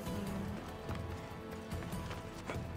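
A Spartan horse gallops in Assassin's Creed Odyssey, its hooves drumming in a quick, steady rhythm with game sounds around it, fairly close and without talk.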